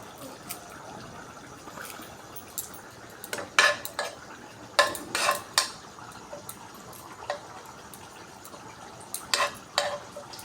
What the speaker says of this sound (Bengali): কারি পাতাটা আমি দিয়ে একটু নেড়ে নেব।